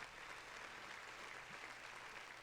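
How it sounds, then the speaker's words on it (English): Applause from a studio or live podcast audience, steady dense clapping that stays even and fairly faint for the whole stretch, with no voices over it. "Round of applause for titties."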